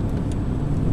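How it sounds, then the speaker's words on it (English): Vauxhall Astra with LPG dual fuel crossing a small humpback bridge: a brief, loud, close low rumble of road and engine noise inside the car, steady throughout. "we'll just go over this small humpback bridge"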